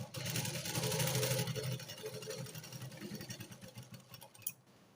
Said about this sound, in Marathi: इथे मी डबल शिलाई देऊन घेणार आहे